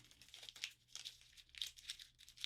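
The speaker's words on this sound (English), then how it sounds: "You're crumpling it up into a little ball and you're going to throw it at me" Paper money is crumpled into a ball by hand, a close, faint series of crisp crinkling and tearing bursts in an irregular rhythm, with no talking.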